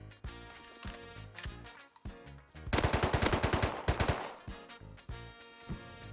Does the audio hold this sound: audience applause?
no